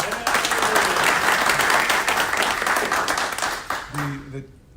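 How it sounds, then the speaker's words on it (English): A crowd at a community business pitch event breaks into sustained applause, dense and steady for about four seconds before thinning out, with a voice speaking briefly as the clapping fades. "Let's give her a round of applause."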